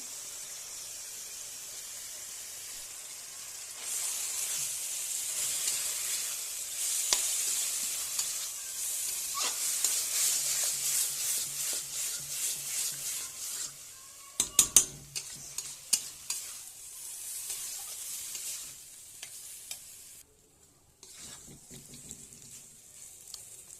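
Spice paste fries in a pan, a steady sizzling hiss with stirring scrapes and a few sharp clatters of the utensil against the pan, close by, fading out near the end.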